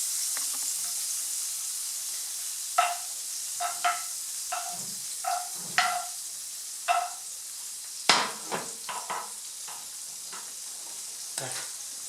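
Fat melting in a pan over low heat, a gentle steady sizzle broken by a series of light scrapes and clinks of a utensil against the pan, close and fairly quiet.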